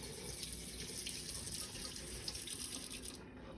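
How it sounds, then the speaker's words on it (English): Tap water runs steadily into a kitchen sink as a small kitchen knife is rinsed, a soft continuous splashing stream heard close and alone. "Actually, I think I'm gonna just rinse this knife."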